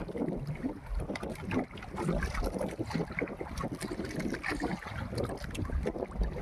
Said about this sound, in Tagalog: lakas ng abagat guys